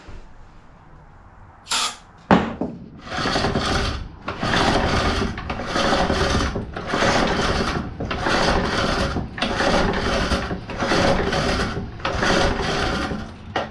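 A small engine primed with brake cleaner is pulled over repeatedly with a recoil starter, a close series of rasping, rhythmic cranking bursts after a couple of sharp knocks, never catching.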